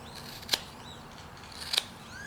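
A blade cuts into a block of wood while a character's head is carved, giving two sharp, crisp snaps about a second apart over a quiet background.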